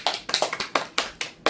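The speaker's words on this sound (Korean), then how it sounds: "박수." A few hands clapping close by in a small class, with sharp, slightly uneven claps in quick succession that end after a short burst.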